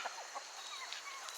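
Backyard chickens, an olive egger rooster among them, cluck softly and intermittently nearby, short chirpy calls scattered over a quiet outdoor background with no talking.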